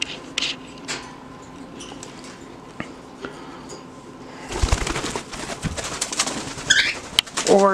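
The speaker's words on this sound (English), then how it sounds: "Birds are not even supposed to be out." A pet bird coos near the microphone amid indoor room noise, with brief louder chirps and household clatter toward the end.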